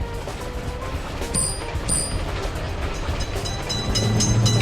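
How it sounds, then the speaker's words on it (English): A video-game train rolling through a level crossing, a steady rumbling roar with faint rail clatter and brief high bell-like tones, the noise swelling toward the end. "Train is in sight."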